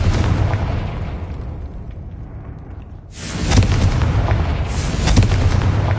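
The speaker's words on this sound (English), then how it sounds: "Confringo!" A Confringo blasting spell in Hogwarts Legacy goes off as a heavy rumbling boom under steady game noise, followed by two sharp, bright explosive bursts in quick succession.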